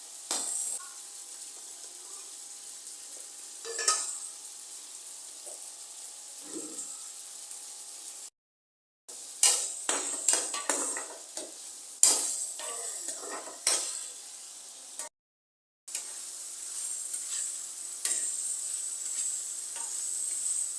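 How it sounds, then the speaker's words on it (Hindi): Tomatoes sizzle in a separate pan while being stirred, with scraping strokes and clinks of a utensil against the pan in steady bursts, part of a tawa kaleji recipe. Two brief gaps of silence interrupt it, and no one speaks. "एक अलग पैन में हम टमाटर फ्राई करेंगे।"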